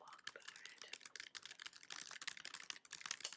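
A blog post being typed on a computer keyboard: rapid, quiet, irregular key clatter in quick bursts, close by and with no voice over it.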